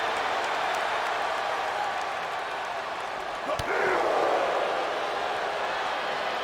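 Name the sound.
crowd cheering at a wrestling match in video game WWE 2K22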